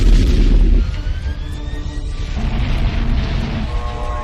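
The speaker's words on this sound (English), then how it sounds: "Torpedoes detonated." Torpedoes detonating in a naval action movie scene, a loud, deep rumbling blast at the start that fades into a sustained low roar with tonal alarm-like whines over it.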